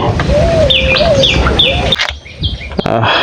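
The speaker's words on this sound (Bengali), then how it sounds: "ও কবুতর পাখি" A pigeon calls in a Sundarbans forest, repeating short sliding notes several times over, close and clear, among other faint chirps and background hiss.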